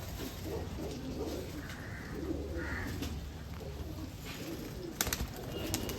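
A female Teddy pigeon, number 41, and nearby pigeons give soft, low cooing calls in a few short bursts over a quiet background hum, with a brief rustle near the end.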